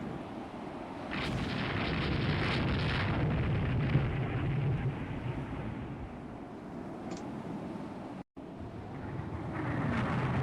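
Warship guns in Rule the Waves 3 boom with heavy, rolling concussions that swell into a long rumbling roar, fade, then pick up again after a brief silent gap.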